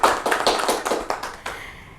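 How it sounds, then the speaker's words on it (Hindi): An audience at a community forum event claps loudly, a close flurry of hand strikes that thins out and fades away within about two seconds. "एक बार जोरदार तालियां हो जाए।"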